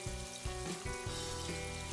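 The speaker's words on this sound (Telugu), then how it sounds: "ఇప్పుడు ఒక బౌల్లో 3 టేబుల్ స్పూన్స్ ఆయిల్ వేసుకుని మ్యారినేట్ చేసి ఉంచుకున్న ప్రాన్స్ని వేసి ఫ్రై చేయండి" Marinated prawns frying in about three tablespoons of oil in a bowl on the stove, a dense continuous sizzle with faint scraping, close and fairly loud throughout.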